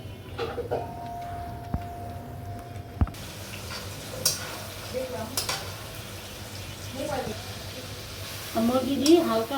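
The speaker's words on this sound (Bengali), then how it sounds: "আমি এখন মুরগিটা একটু ভেজে নেব।" Chicken pieces lightly frying in hot oil for a desi chicken red curry, a low crackling sizzle with scattered clinks of a spoon against the pot and brief stirring scrapes, fairly close and moderate in level.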